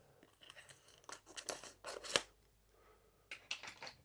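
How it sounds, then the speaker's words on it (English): Several crisp snips and crinkly tearing sounds of scissors cutting cellophane wrap off a box, close by, in short bursts with brief pauses between. "So the first thing we have to do is cut the cellophane."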